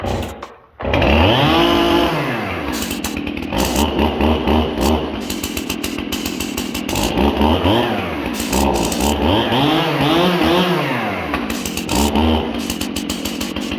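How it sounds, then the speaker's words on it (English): A Stihl chainsaw engine revs loudly and steadily at high idle, its pitch rising and falling slightly in waves throughout, with no voices. "Step her up into the high idle"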